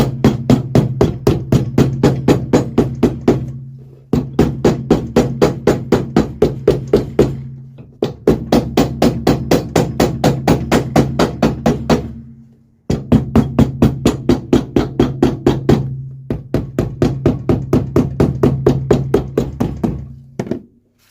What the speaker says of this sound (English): Get our hammer and we just hammer these stitches in.